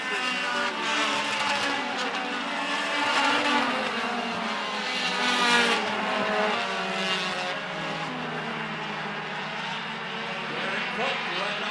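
Race cars roar around an oval track during a race, a dense, continuous engine drone rising and falling as cars pass, under steady commentary from an announcer.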